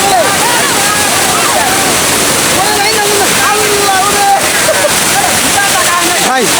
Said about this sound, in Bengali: দেখেন মায়াবী ঝর্ণা, একদম মায়াবীর মতো, কিন্তু কি পরিমাণে পানি পড়তেছে।